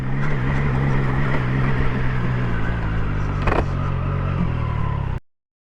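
A 2022 Triumph Tiger Sport 660 motorcycle being ridden, its engine droning steadily at cruising speed under wind rush, with one brief clatter before the sound cuts off abruptly.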